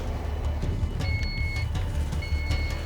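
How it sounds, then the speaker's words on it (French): A crane's safety alarm sounding at its load limit on a log-cabin building site, two thin steady beeps heard over a low engine rumble outdoors. "La grue, quand elle se met en sécurité, qu'elle bip, c'est jamais bon signe."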